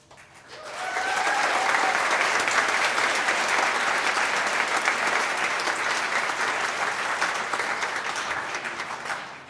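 An audience at a school Veterans Day program applauds a police officer, the clapping swelling quickly into a full, sustained roar of many hands before tapering off near the end.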